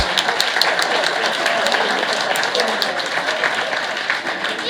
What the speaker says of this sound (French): par notre ami et huissier, Maître Enfoiros, que vous pouvez applaudir